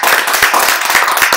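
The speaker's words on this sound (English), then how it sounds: "Clap it up." A small group claps briefly at the start of a live-streamed podcast taping, a short burst of quick, close hand claps with no talking.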